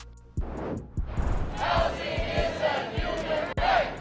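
A crowd of supporters of a renters' protection ordinance, gathered around a city council meeting, raises a continuous murmur and cheer, with a few sharp knocks and shouts rising over the steady noise.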